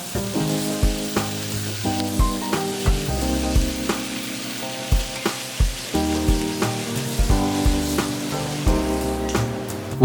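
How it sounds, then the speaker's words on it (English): Shrimp and vegetables sizzle steadily in a wok with sauce, a continuous frying hiss with scattered stirring clatters beneath prominent background music. "we'll add about half of our cooked shrimp and cook all together until the sauce has had time to really mix in with the veggies"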